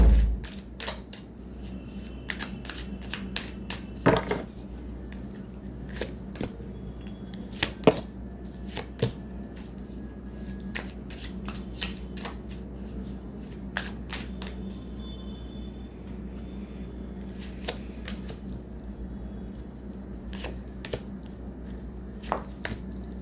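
A deck of tarot cards being shuffled by hand during a reading, giving soft, irregular riffling and flicking bursts close by over a steady background hum, with no talk.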